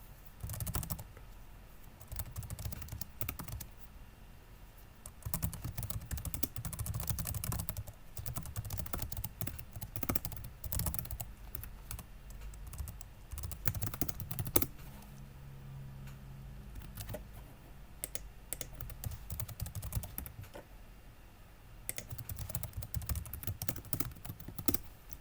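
Computer keyboard typing while code is written for a Lisp interpreter in Python, a long, steady run of close, fairly soft keystrokes with brief pauses, without talk.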